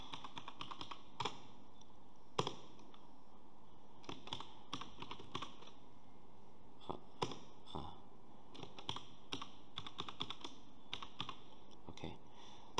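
Quiet, irregular keystrokes on a computer keyboard as a password is typed, soft clicks in short bursts and scattered single taps against a hushed room background.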